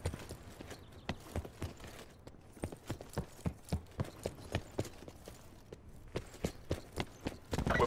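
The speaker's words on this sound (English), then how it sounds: "Horses are inbound." Horses gallop in the video game Call of Duty: Black Ops 4, a steady run of rhythmic hoofbeats clip-clopping at moderate distance and growing slightly louder toward the end.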